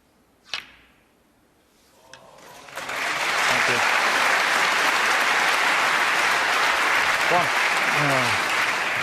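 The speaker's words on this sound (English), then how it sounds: "Terrific round of applause for that very good shot with the rest." Snooker audience applause rings out after a fine shot played with the rest at the 2014 UK Championship, rising from near silence into loud, sustained clapping that fills the arena, with a voice coming through briefly near the end.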